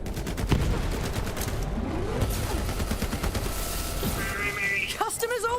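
Rapid gunfire from the video game Borderlands 3: dense, sustained bursts of shots with explosive effects and game voices throughout, fairly loud and continuous.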